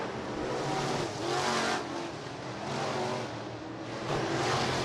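B-Mod race cars roar around the Rapid Speedway dirt oval in a dense, steady engine drone, swelling and fading as packs pass, loud throughout with no talk.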